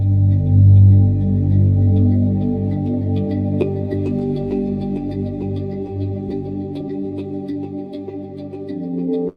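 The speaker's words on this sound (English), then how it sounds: "Just a simple little ambient electronic piece with a choir." AI-generated ambient electronic piece from Suno with a choir: low sustained pads and drawn-out choral tones hum continuously, with faint higher tinkling accents scattered on top.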